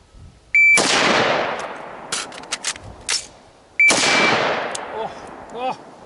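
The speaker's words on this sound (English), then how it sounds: "On target, fire one shot, emergency reload, fire one shot." Two sharp, loud AR-15 rifle shots ring out several seconds apart, separated by the metallic clatter and clicks of an emergency magazine reload, with a brief electronic beep just before each shot.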